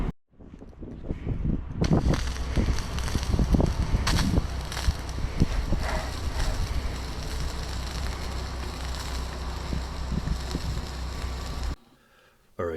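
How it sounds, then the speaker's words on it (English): Strong wind roaring and buffeting the microphone with gusty thumps, a continuous loud rush that cuts out abruptly near the end. "it is extremely windy"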